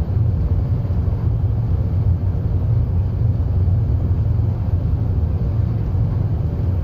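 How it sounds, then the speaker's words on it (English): Forward thrust engines of a spaceship in the game Space Engineers, a loud, continuous low rumble that holds steady throughout with no talk. "I can just turn my engines on, like just one click of my forward thrust engines."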